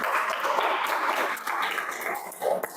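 Applause for a speaker at an Indonesian teacher-training session, a dense wash of many hands clapping at moderate distance, steady for a few seconds and then starting to thin out.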